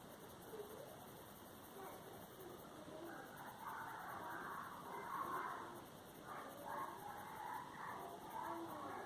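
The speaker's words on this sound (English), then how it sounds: "Apologies if you can hear those dogs." Small dogs bark, yip and whimper at a distance in a faint, continuous scuffle, their scrappy fighting noises muffled against a steady background hiss.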